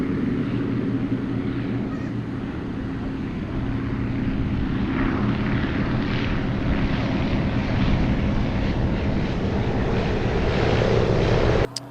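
A propeller aircraft engine drones steadily at an airport air show in Columbus, a continuous loud rumble that swells slightly in the second half before cutting off at the end.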